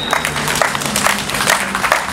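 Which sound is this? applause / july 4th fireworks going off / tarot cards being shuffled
applause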